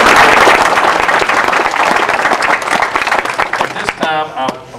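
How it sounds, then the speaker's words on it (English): A school gathering audience breaks into loud, dense clapping that gradually thins toward the end, with a voice starting to speak over the tail of the applause. "I think we ought to give her a round of applause"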